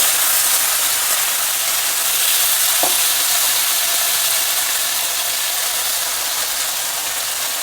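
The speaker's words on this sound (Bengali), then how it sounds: "বিনসটা আমার অর্ধেক ভাজা হয়ে গেছে" Green beans frying in a pan after onions, giving a steady, loud, even sizzle throughout with one brief stir or scrape partway, no voices.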